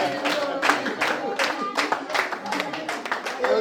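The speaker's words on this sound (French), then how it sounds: "On va t'applaudir." An audience claps for Yumi at a church gathering, a brisk run of close, uneven hand claps from a small group that keeps going steadily throughout.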